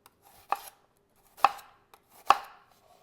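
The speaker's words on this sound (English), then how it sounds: "just turn it a quarter turn and then just cut it working the curvature of the onion" A knife chops through an onion onto a cutting board in three distinct, evenly spaced cuts, each a crisp close thunk followed by silence, with no talking.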